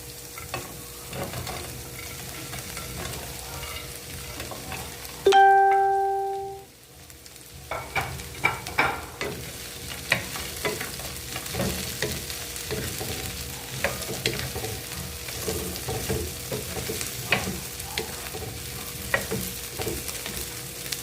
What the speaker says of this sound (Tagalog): ang ito na siling green. Tapos, ihalo ko na ang aking